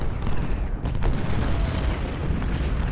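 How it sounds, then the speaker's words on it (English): Heavy artillery fire from a Civil War battle at Fredericksburg in the strategy game Ultimate General: Civil War, a dense, continuous rumble of booms and blasts that stays loud for the whole stretch. "I think it's coming from the artillery mostly."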